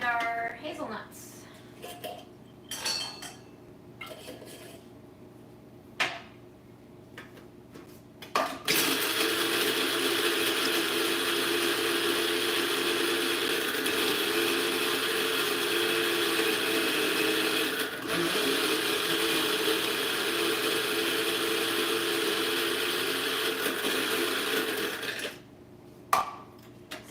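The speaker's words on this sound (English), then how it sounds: "now we're gonna grind our hazelnuts" A food processor or blender grinds hazelnuts into butter, a loud steady whirring roar running about sixteen seconds after scattered clatter and handling noises, stopping near the end.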